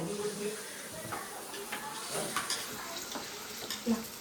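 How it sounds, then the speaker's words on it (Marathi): Onions fry in a pan with a soft, continuous sizzle and a few faint stirring scrapes, heard fairly quietly at close range. "आता कांदा भाजायला घेते."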